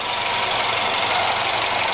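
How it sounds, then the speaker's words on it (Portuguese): A Peugeot 3008 THP engine running steadily after a cylinder head repair, with a loud, close, even idle and a faint knocking beat in its broadband drone. "nosso Peugeot 3008 já tá funcionando"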